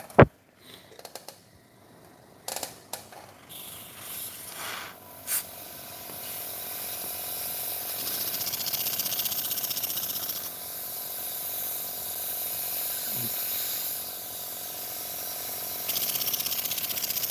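A small live steam engine with slip-eccentric valve gear and a roughly inch-wide boiler, heard as a continuous hissing spray of steam that builds and then holds steady, preceded by a few sharp mechanical knocks, fairly faint and with no voices.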